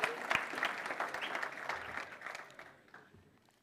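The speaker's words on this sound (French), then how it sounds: "Il faut applaudir" Applause from a youth camp congregation at a church-style gathering, a dense patter of clapping that starts strong and gradually fades away over a few seconds.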